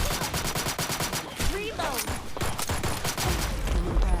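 Sustained automatic weapon fire in the online shooter Black Stigma, rapid evenly spaced shots close and loud, broken by a short pause midway and then resuming with heavier low thumps.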